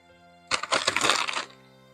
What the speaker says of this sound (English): Some more metal keys.